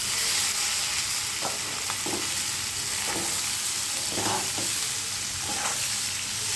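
Chopped snake gourd frying in a hot pan makes a continuous sizzle, with periodic scraping strokes of a spatula as the vegetable is stirred.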